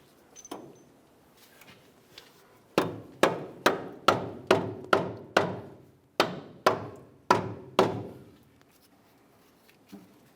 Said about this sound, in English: If you need to drive this in, make sure you use a rubber mallet